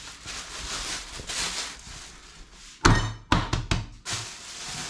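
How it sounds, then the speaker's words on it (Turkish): Knife cutting through rolled-out water börek dough on a board, a few sharp thunking chops near the end after a quiet stretch. "Evet hamurumuzu açıyoruz ve şimdi kesme işlemine başlayacağız."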